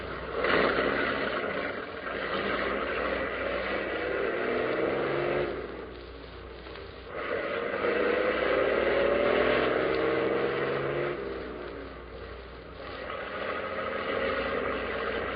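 A car engine runs steadily while driving, a muffled low rumble with a few swells and dips in loudness, heard through a narrow, old-fashioned recording without talk.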